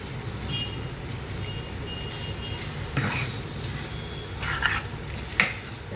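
Prawns and tomato sizzle steadily in a pan while a spoon stirs them, with a few scraping knocks of the utensil against the pan over the constant frying hiss.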